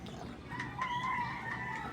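Pet chickens, including a rooster, cluck and call from a rooftop pen, a few short bright calls rising over soft ambient noise at close to moderate distance.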